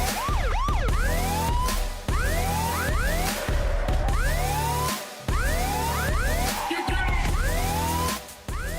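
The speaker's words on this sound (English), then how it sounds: "Here comes the sound of the siren." Loud repeated rising siren wails layered over a pounding electronic beat, cycling over and over in a music track.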